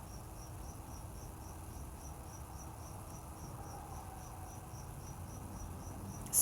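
Steady, high-pitched cricket chirping pulses on and on outdoors, a constant insect chorus over faint low background noise, with a brief louder bump at the very end.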